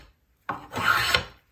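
Hand plane with a curved sole cutting bevels on wood, a single short rasping shave after a brief pause, close and crisp, swelling and then trailing off.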